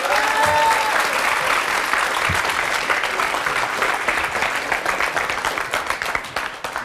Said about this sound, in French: on peut l'applaudir, merci